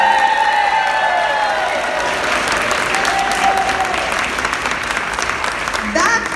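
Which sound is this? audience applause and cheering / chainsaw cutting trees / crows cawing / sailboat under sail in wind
audience applause and cheering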